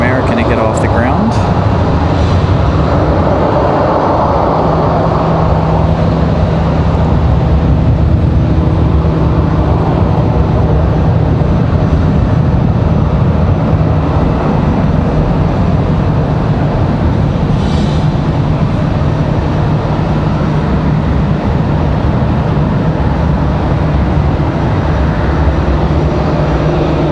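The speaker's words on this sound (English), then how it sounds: "Just waiting on that American to get off the ground" At Raleigh-Durham airport an American Airlines jet takes off with a loud, sustained roar and a steady low drone that fills the whole stretch. It stays strong and close throughout, with no voices over it.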